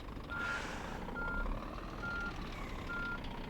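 Four evenly spaced truck reversing beeps in the video game On the Road sound over a steady low engine rumble, moderately loud with no talking.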